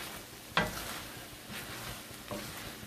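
Stir-fry vegetables sizzle faintly in a Lodge enameled cast iron pan, with a soft steady crackle, one sharp clatter near the start and a couple of quieter stirring scrapes.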